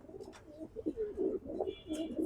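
Pigeons cooing softly nearby, a few low rolling coos in quick succession.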